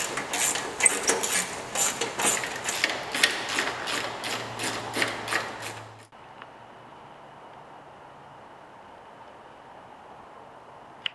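Bolts being loosened and removed from a vehicle fender before fitting XRC tube fenders: a run of close metallic ratcheting clicks for about six seconds, then the sound cuts to a quiet background with one small click near the end.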